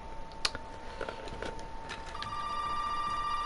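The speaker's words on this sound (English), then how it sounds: "Oh, right, I answered the phone too soon." A telephone rings in the Resident Evil 7 video game, a faint tonal ring emerging near the end after a few soft clicks and taps.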